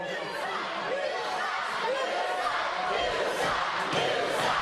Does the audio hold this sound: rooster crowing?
no